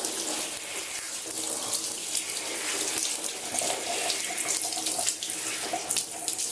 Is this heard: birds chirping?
no